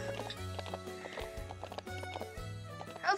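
A horse in the ranch video game Ranch of Rivershine neighs and its hooves clip-clop over a steady background music bed, with a rising whinny near the end.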